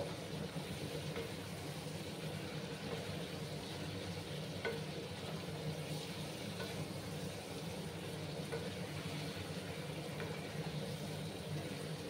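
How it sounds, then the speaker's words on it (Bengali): Spice masala being stirred and sautéed in a pan for rohu fish curry with ridge gourd and potato: a soft, steady sizzle with faint stirring, low and continuous, without talk. "আমি নাড়াচাড়া করে নেব, আর একটু সময় আমি ভালো করে কষিয়ে নেব"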